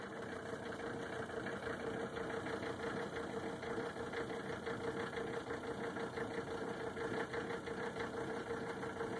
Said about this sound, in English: it's idling a little bit rough because the car has not been running so long and it's got really old fuel in it.